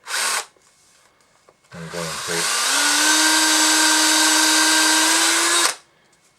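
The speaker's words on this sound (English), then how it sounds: "I'm going to take a drill here, and I have a 5mm bit on this" A power drill fitted with a 5mm bit bores through a cork popper head for a sailfish tube fly, giving a steady high whine for several seconds after a brief start-up burst, with a short spoken phrase just before.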